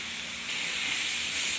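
Sautéed bamboo shoots with mushrooms being stirred in a pan, a steady close steam-like hiss and sizzle running throughout with no talk.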